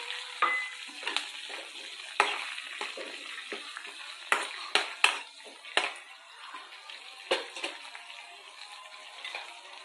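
Onion pieces sizzle and fry in a pan, a steady crackle broken by sharp stirring scrapes and spatters, close and alone without talk.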